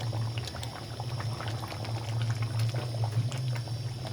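A pot of chicken, pea and potato curry with gravy boils steadily, giving a close, continuous bubbling and gurgling with small pops over a low, even simmer for the whole stretch.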